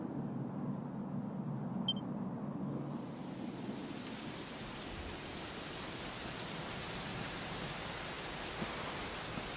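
Steady, dense rainfall from the video game Dragon Quest XI swells in after a few seconds into a constant, even hiss that holds with no voices.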